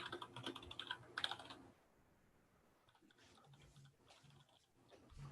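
Code typed on a computer keyboard at a programming workshop, quick bursts of clattering keystrokes, a short pause, then lighter scattered taps, close and quiet.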